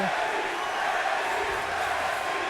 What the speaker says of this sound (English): Listen to the crowd here at Full Sail